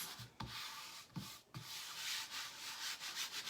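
Steady, close rubbing of a Chalk Couture transfer being smoothed onto a surface to push out air bubbles, a soft scratchy swishing in repeated strokes with brief pauses between.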